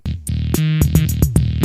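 Punchy electronic music from the Hotline Miami video game soundtrack, with hard rhythmic hits and a buzzy synth line, beats landing at a quick steady pulse.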